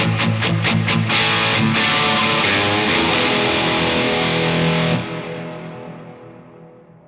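An electric guitar played through a reverb effect on a Quad Cortex, with a few picked hits, then a held, distorted chord washing in a thick reverb tail that decays slowly to silence.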